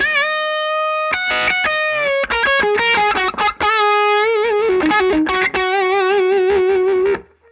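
Electric guitar through a JHS Notadumble pedal in drive mode: a loud, overdriven melodic phrase of picked notes and bends with sustained tones, alone, ending abruptly.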